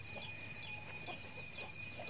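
Free-range desi hens on a small poultry farm cluck in a steady series of about five short calls, moderately close, over a low background hum with no talk.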